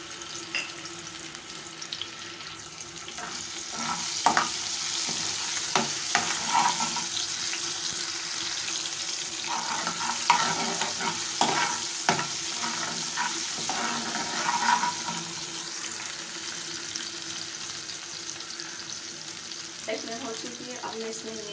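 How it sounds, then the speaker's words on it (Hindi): Ginger garlic paste fries with browned onions in a pan, a continuous close sizzle broken by scraping stirs and clatters, with running tap water and brief clinks at the end. "इसमें मैं अदरक लहसुन का पेस्ट ऐड कर रही हूँ।"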